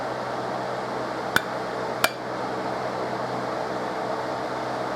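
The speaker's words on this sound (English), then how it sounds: "I'm just going to hit it a couple times with my soft hammer" Two sharp taps from a soft-faced hammer seating a part into a 1911 pistol strike less than a second apart against a steady background hum.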